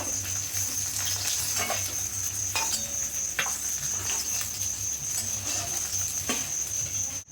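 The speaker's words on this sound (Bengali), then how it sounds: "দেখো এই মাছগুলো কিন্তু লাল লাল করে ভেজে নিয়েছি" Silver carp pieces fry in hot oil with a steady, close sizzle and spitting crackle throughout, a few brief clinks and stirring knocks in the pan along the way, no talk.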